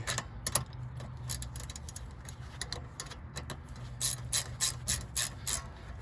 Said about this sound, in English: I'm gonna use my wrench the rest of the way.